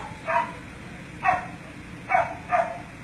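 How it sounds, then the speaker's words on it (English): Four separate barks from a dog shut in a kennel ring out at a middle distance, the last two close together, over a low steady background hum. "that is the dog that's locked in the kennel,"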